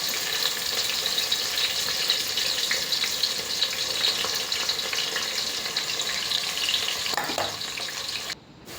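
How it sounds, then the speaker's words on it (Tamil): Long-sliced large onions sauté in oil until golden for a horse-tail millet mixed rice, giving a steady, close, crackling sizzle that runs throughout with no talk and dips briefly near the end. "நல்லா பொன்னிறமாக வணக்கிக்கணும்"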